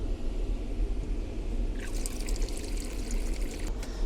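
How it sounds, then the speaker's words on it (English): Water is poured into a pot to boil for washing dishes at an outdoor overlanding camp, a faint splashing trickle over low rumbling background noise. "I'm going to boil some more water and do dishes real quick."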